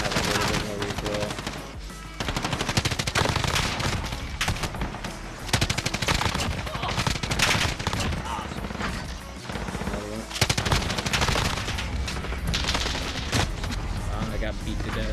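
Gunfire in the Warzone video game: dense, loud bursts of automatic weapon fire crackle almost without pause, with a few heavier booming shots mixed in across the whole stretch.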